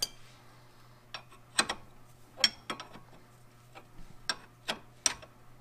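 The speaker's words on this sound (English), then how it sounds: "For the top bolt, since the ratchet won't fit, we'll have to use a wrench." A wrench works a brake caliper bolt on a 1999 Subaru Impreza 2.5RS during a rear disc brake job, giving a sparse series of sharp metallic clicks and ticks, close and isolated over a quiet low hum.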